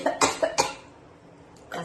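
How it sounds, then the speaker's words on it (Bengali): Several sharp, hacking coughs close to the mic come in a quick cluster, then a short pause and one more cough at the end. "কেসে কেসে মনে হচ্ছে প্রাণটা আমার বেরিয়ে যাবে, এত কাশি হচ্ছে"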